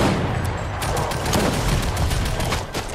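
Gunfire in the video game Fortnite, rapid bursts of shots cracking in close succession, loud and continuous through the moment with a few heavier booms mixed in.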